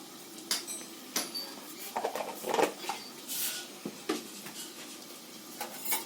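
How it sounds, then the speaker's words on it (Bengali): Dried red chillies, cumin and coriander seeds being dry-roasted on a tawa: soft, quiet scraping and stirring knocks with light metallic clinks at irregular intervals, close and faint. "আমি তাওয়ার মধ্যে একটু নেড়ে নিচ্ছি, মশলাটা একটু ভেজে নিচ্ছি"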